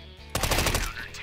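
Automatic gunfire in the video game CS:GO, a fast burst of roughly eight sharp, loud shots in quick rhythm, heard close and without talk over it.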